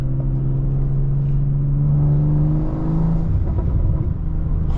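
A car fitted with a catless downpipe and full exhaust drones steadily and close, then breaks into a rough, crackling burble as the throttle eases, with no voices.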